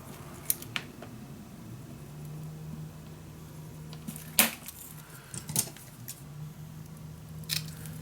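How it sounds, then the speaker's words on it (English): Scissors snip a paper strip in half while making a Stamperia Grand Hotel mini album, giving a few quiet, isolated crisp cuts spaced over several seconds against a low steady hum. "I'm gonna cut this nicely in the middle."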